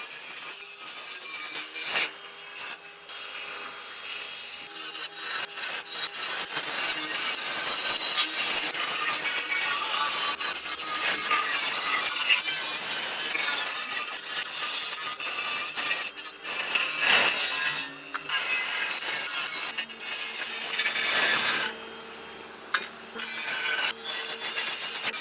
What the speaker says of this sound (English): This is a 5-inch diameter saw, similar to a wood saw, like a skill saw blade, but used on a grinder, and it's perfect for cutting aluminium.